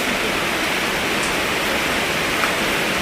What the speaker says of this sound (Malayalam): മഴയാണ് വെള്ളം.